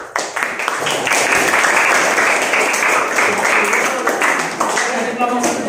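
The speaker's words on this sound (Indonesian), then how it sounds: "Berikan aplaus untuk kelompok 3." Students in a genetics class applaud a classmate group, giving a burst of lively, close clapping from a roomful of people that swells quickly and fades near the end.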